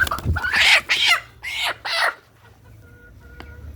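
A single sick desi chicken gives several loud, raspy squawks in quick succession, then falls quiet, close by with no talking.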